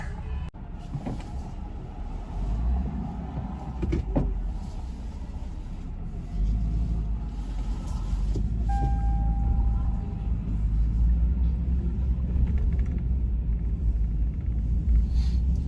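A Ford Falcon car driving on the road, heard from inside as a steady low engine and road rumble that deepens and grows after a few seconds.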